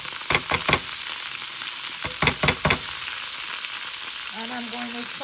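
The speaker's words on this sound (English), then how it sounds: "now I am going to add my onions." Onions sizzling in a pan for mashed plantain, a steady close hiss of frying with two short bursts of rapid stirring taps, and a faint brief tonal beep near the end.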